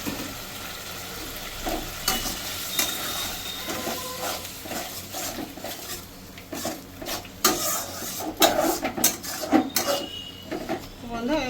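Masala spices with chili powder and ground black pepper being sautéed and stirred in a pan for doi katla fish curry, steady sizzle with repeated scraping stirs and metal clinks, louder bursts toward the end.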